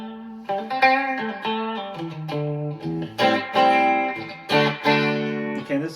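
A Fender Stratocaster electric guitar on its bridge pickup with the tone knob fully up rings out a sequence of bright, twangy notes and chords, each sharply picked and sustaining with a slight effects shimmer.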